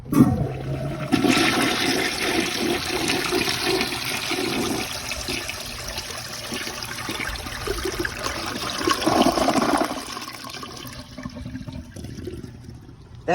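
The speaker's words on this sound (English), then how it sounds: "That flush actually kind of reminds me of like a standard Devoro or Madeira." A Rheem Claymore flushometer toilet flushes with a sharp valve opening and then a loud, sustained rush of water. The flow swells again before tapering into trickling refill.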